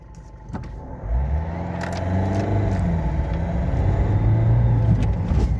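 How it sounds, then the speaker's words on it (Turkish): A car engine rumbles and revs up steadily, pulling away from a standstill, heard from inside the vehicle. "Gördüğünüz gibi araba bayağı seri kalkıyor yani."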